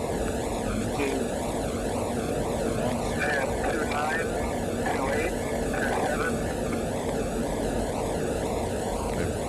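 A jet aircraft performing a stall demonstration flight, with a steady, loud broadband engine roar filling the whole span, swirling whoosh overtones rising and falling throughout, and voices faintly present beneath.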